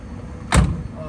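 A door on a 1968 Corvette 427/390 HP swings shut with a single solid thunk, close and fairly loud, over quiet background hum.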